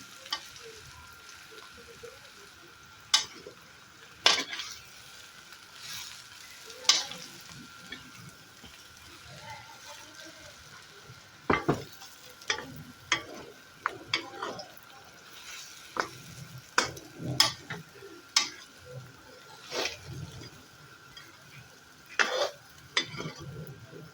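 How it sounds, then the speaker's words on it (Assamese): Quiet frying of jackfruit in a pan with a low sizzle, punctuated by scattered sharp scrapes and clinks of a spatula stirring against metal. "এতিয়া মই কঁঠালখিনি খুব ভাল ধৰণে ভাজি লৈছোঁ।"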